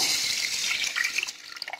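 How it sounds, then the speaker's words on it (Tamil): A stream of water splashes into a small pressure cooker holding roasted moong dal for payasam, a close, bright pour that thins into scattered drips and trickles near the end. "ஒன்றரை கப்பு தண்ணி ஊற்றி"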